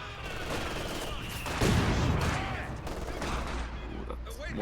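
Mortar impact and rolling gunfire in a competitive multiplayer war video game match, a dense barrage of overlapping shots and blasts with a heavy boom in the middle, under continuous commentator talk.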